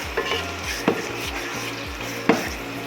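Gongura mutton curry, mutton cooked with sorrel leaves, is stirred in a pan with a spoon scraping through the thick mix. The scrapes come in a steady rhythm, with a few sharper knocks against the pan over a low, constant sizzle.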